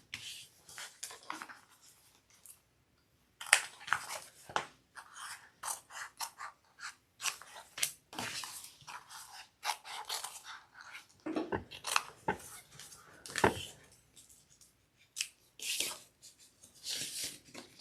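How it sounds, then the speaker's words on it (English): Scissors snipping through the fabric middle section of a sewn backpack, with repeated close crisp cuts and rustling of cloth, arriving in irregular bursts with short pauses between. "Now you want to cut out this middle section."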